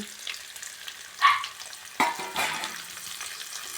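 Green chilies, onion and curry leaves drop into hot oil together in a pan, giving a faint sizzle with a couple of sharp bursts and stirring noises, close and quiet with no talking.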